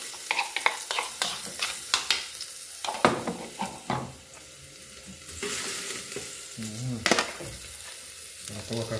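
Garlic frying in a pressure cooker pot: a steady close sizzle runs throughout, broken by repeated sharp scraping and clattering stir strokes, with no talking.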